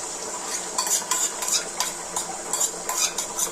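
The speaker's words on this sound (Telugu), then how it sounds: "ఆయిల్ వేసుకొని మంచి దాంట్లో ఎగ్స్ మంచిగా స్మాష్ చేసుకోవాలి జుట్టు ఇట్లా ఈవెన్గా స్ప్రెడ్ చేసుకోవాలి మంచిగా" Eggs are smashed and spread across a pan of hot oil while making egg noodles, giving a close sizzle under repeated bright scraping and clinking utensil strokes at a quick, irregular pace, with no talk.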